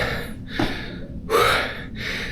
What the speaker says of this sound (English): As you can see, I'm still breathing hard.